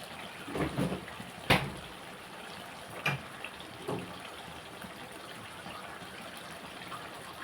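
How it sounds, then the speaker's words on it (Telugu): Water is poured into a pot of chicken curry in a brief splashing gush, followed by a few softer pours and quiet bubbling. "ఇదిగోండి కొంచెం వాటర్ వేసాను"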